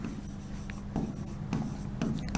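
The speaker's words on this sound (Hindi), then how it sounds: "तो मैं यहां पर लिख दूं" Chalk or marker writing on a board during a chemistry lecture: quiet, rhythmic scratching strokes in short bursts, close by, with no talking.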